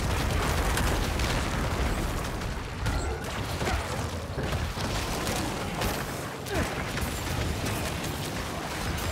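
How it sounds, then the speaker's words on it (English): Magic explosions burst one after another in the Diablo 4 action game, a dense, continuous crackling and booming barrage with sharp pops and whooshes layered over a loud busy mix. "So you see all these blue explosions?"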